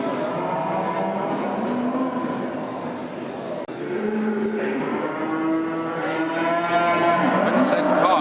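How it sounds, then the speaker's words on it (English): Cattle moo repeatedly at Hexham livestock market, loud and close, with long overlapping lowing calls from several animals over a busy background of market noise. "we've come along to Hexham livestock market, where they sell cows and sheep and that kind of thing"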